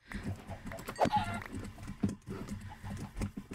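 Short video game sheep bleating and animal calls in quick bursts, mixed with clattering thumps, fairly close and uneven in rhythm.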